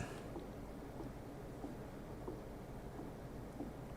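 A meteor storm rumbles outside a habitat in the Occupy Mars video game, a faint, low, continuous rumbling wash like distant thunder and wind, steady and distant with no talk.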